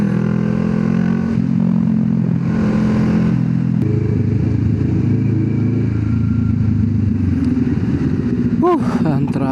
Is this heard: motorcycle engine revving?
yes